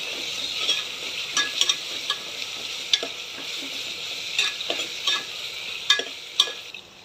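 Khichdi ingredients are sautéed in a pan with a steady bright sizzle. Crisp spatula strokes click against the pan every half second or so, with no talking.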